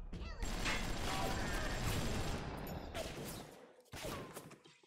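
A turret in the video game BioShock fires in rapid mechanical bursts, a dense clattering rattle of gunfire with brief pauses between volleys, fairly close and loud.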